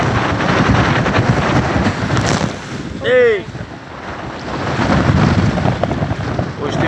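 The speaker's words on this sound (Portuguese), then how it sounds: "hoje tem muito vento, pessoal" Strong wind buffets a microphone aboard a fishing boat at sea, a steady broadband roar with waves and water underneath, broken briefly by a short spoken exclamation midway.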